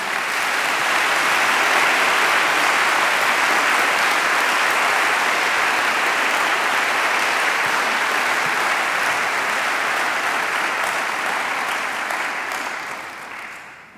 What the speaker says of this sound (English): let's give a big round of applause to this international superstar of our Catholic faith